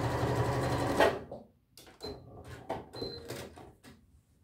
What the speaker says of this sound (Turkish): Bir makina hizasında spor dikiş atıyoruz.